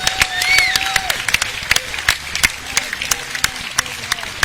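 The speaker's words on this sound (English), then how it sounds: "The crowd is on their feet, as they should be." Crowd at a cornhole singles final applauding and cheering after an epic match, scattered sharp claps and whoops under excited commentary, with whistles rising and falling through the clamor.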